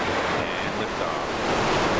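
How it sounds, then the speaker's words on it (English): Roar of a New Shepard rocket lifting off in West Texas: a loud, steady, broadband rushing rumble, constant throughout and heard without talking. "a spectacular launch of New Shepard, live from West Texas"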